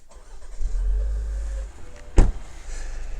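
A 2025 Buick Enclave Avenir started with a push button: a low rumble as the engine turns over and settles, a sharp click midway, then a quieter idle, nearby and without talk.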